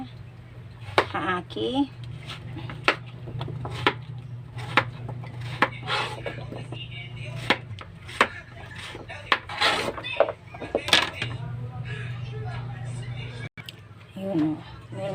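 A knife chops bottle gourd (upo) on a board in a home kitchen, with sharp, fairly regular knocks about once a second, close by, mixed with a person talking.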